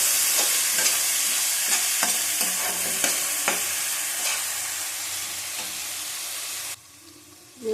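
Food frying in a pan for a Bengali fish-bone chachchari, with steady close sizzling and frequent clinks and scrapes of a stirring spoon, before the sound drops away near the end.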